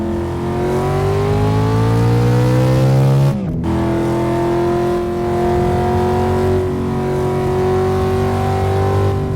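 A powerful car engine with no turbos runs hard, its rising whine climbing through the gears with a sharp shift break and then a long steady loud drone close by.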